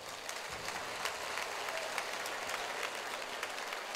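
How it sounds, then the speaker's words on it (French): A church congregation applauds loudly during a worship service, a dense, sustained wash of clapping that fills the room for several seconds without a break. "Acclame très fort pour le roi."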